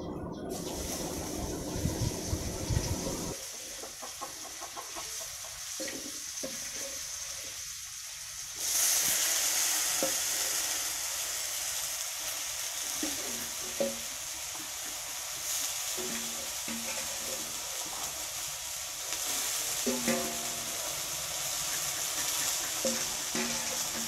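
Taro stolons fry in a pan with a steady, close sizzle that runs the whole time, growing brighter and louder partway through, with soft stirring and clinks underneath.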